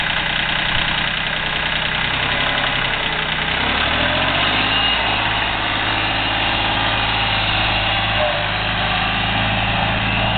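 A Yanmar 226D compact four-wheel-drive tractor idles steadily close by, its diesel chugging on without a break for the whole stretch.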